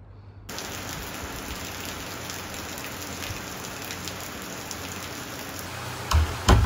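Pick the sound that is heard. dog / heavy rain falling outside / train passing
heavy rain falling outside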